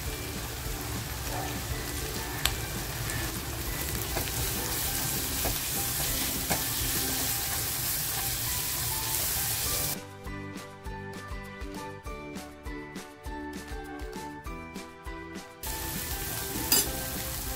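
Dried shrimp (jawla) and homemade masala, roasted with eggplant, stir-frying in a pan: a steady sizzle with scraping stirs, then sharper spatula clinks over a quieter fry before the sizzle swells again.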